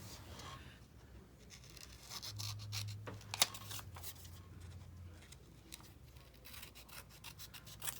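Paper being cut with scissors for a junk journal, a quiet, close run of rustling, rubbing snips and scraping paper handling with no talk.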